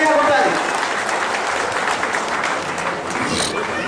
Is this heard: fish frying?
no